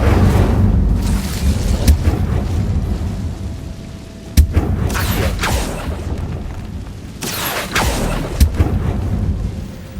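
Fiery spell blasts in Hogwarts Legacy, several booming bursts over a constant low rumble, with strong hits near 4.5 and 7.5 seconds.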